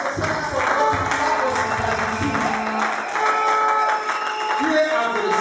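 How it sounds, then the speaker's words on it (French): A church congregation at a wedding service applauds together in steady, dense clapping that runs throughout, with voices speaking and calling out over the applause. "Je voudrais que les serviteurs de Dieu spécialement applaudissent la sœur"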